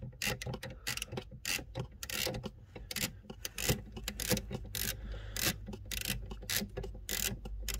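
A 10 mm socket on a ratchet unscrews the battery brackets in a Mercedes W204 C-Class, giving steady close rasping clicks and rubbing scrapes that continue without a break and with no talk.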